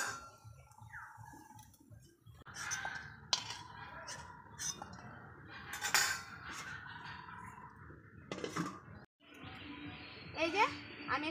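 Fried sweets lifted out of a pan with a metal utensil, scattered clinks and scrapes of metal on the pan among bursts of sizzle and background voices, near and irregular.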